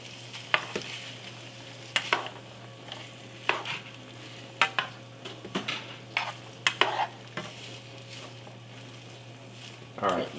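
Kielbasa and onion sizzle in a pan under a steady frying hiss, with sharp scraping clacks of a utensil stirring at irregular intervals; faint talk surfaces in places.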